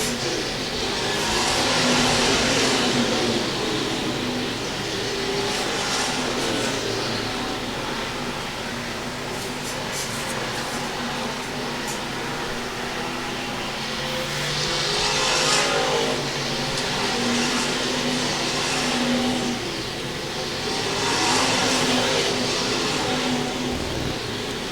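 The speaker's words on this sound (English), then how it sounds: "Jake Cameron still pulling away from your second place car, Jeff Dixon" IMCA race cars circle the I-35 Speedway track in a continuous loud engine roar that swells and eases as the pack passes, with no voices heard.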